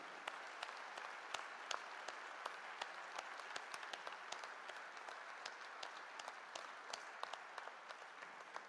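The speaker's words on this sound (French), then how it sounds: "on peut applaudir l'ensemble des partenaires qui nous suivent" Scattered audience applause at a rural families federation congress closing, thinning claps spread through a quiet hall, fairly faint and steady throughout.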